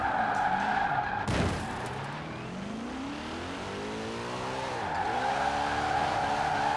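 Tires squealing on a Ford Mustang Hoonigan drifting in Forza Horizon 4, a long continuous screech with the engine revving and pitch swooping up and down, one sharp impact near the start.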